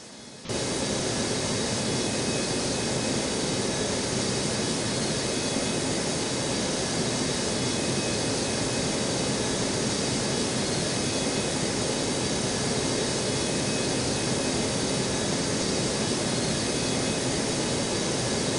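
A jet airliner on approach to land on runway 4R at Newark airport, a loud, continuous broadband engine roar that holds steady throughout, heard alone without voices.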